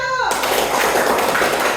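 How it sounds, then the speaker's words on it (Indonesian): A classroom of students applauding group 1, a dense burst of clapping that starts abruptly after a brief spoken moment and continues loud and steady to the end. "Tepuk tangan untuk kelompok 1."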